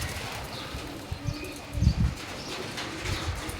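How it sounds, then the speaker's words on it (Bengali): Ice bar Damascene pigeons cooing softly nearby, low repeated coos in a few short bursts with light rustling and faint background noise. "কাজলা চোখের, সব একদম সুন্দর কবুতর"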